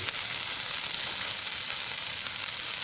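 Bell peppers sizzle steadily in a hot pan, a continuous bright frying hiss holding level throughout with no talking.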